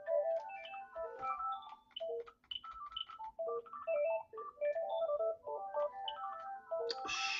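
An ordinary phone plays a melodic ringtone, a rapid sequence of bright electronic tones repeating in phrases, fairly clear and uninterrupted by talk.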